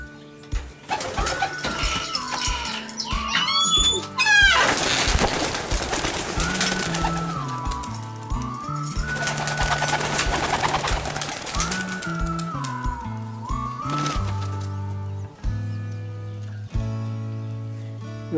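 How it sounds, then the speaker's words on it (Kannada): Racing pigeons coo repeatedly after being released, soft rolling calls overlapping throughout, with a stretch of louder mixed noise and flutter in the middle. "ಈಗ ಬರ್ಡ್ಸ್ನ ಹೊರಗಡೆ ಬಿಡೋಣ ಬನ್ನಿ"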